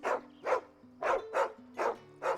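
A plain-looking dog in Final Fantasy XVI barks six times in a steady rhythm, each bark loud and close over a low, steady game music bed, with no talking.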